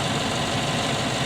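A 5.3 liter V8 truck engine idles steadily close by with the hood open, a continuous low rumble and vibration with no breaks or talk.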